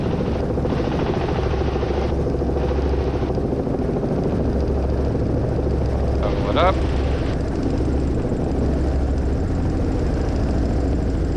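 A training helicopter near gross weight flies and descends with a constant loud rotor and engine drone heard from inside the cabin, steady throughout while crew voices talk over it.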